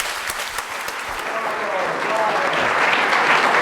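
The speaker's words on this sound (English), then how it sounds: "one last round of applause for the inventor of the Hummer." An audience at a historic-tales talk on Gasparilla Island breaks into steady applause that swells and keeps building, with a few voices cheering under it.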